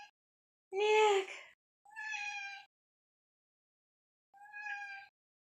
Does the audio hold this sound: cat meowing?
yes